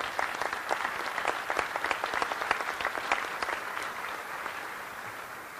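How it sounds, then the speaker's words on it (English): A crowd at a space shuttle crew's homecoming in Houston claps in a dense, lively burst. The applause holds steady for several seconds, then thins slightly toward the end. "let's give them a round of applause"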